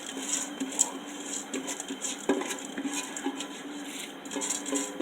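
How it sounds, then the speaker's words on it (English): Rice being added to a pot of chicken and pumpkin, with light patter and scattered metallic clinks and scrapes of utensils against the pot, close and moderately quiet, with no talk. "So now I'm gonna add my rice to this."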